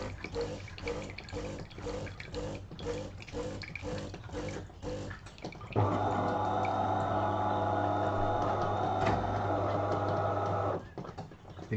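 A DeLonghi Autentica Cappuccino ETAM 29 660 SB coffee machine runs its rinse cycle: rhythmic ticking pump pulses, then a steady loud humming pump with water flowing for about five seconds before stopping, close up.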